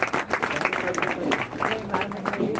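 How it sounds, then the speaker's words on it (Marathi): An audience at a live event applauds to congratulate Anna, scattered claps rising and falling in uneven bursts while a voice talks over them through most of the clip. "अण्णाचं टाळ्या वाजून अभिनंदन करा"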